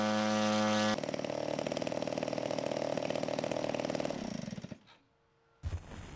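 Large gas engine on a 103-inch Morane Saulnier AI scale model airplane roars steadily at full throttle for about four seconds, then cuts out abruptly, leaving near silence before a brief restart burst.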